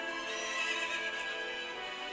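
Epona, the horse in the video game Twilight Princess, gives a long, bright whinny that wavers as it fades, clear and fairly close, with no talk over it.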